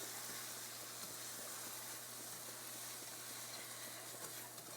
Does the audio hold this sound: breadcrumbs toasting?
yes